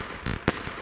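Fireworks from the video game Feuerwerk Simulator burst in two quick explosions, the second a sharp, loud bang, within under a second.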